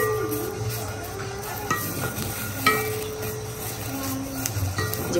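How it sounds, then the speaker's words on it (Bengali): Green chillies fry in a pan with a little water, giving a steady sizzle broken by occasional clinks and scrapes of stirring. "আর এই যে কাঁচা মরিচ ভাজা হচ্ছে"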